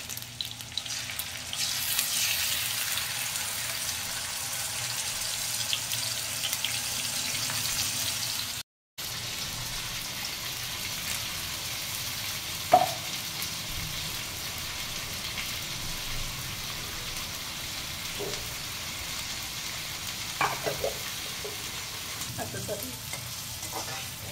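Ground masala paste frying with onions for prawn biryani gives a steady, soft sizzle with occasional stirring scrapes, close and moderately quiet, with a brief cut in the middle.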